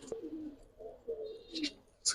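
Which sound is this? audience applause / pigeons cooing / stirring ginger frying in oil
pigeons cooing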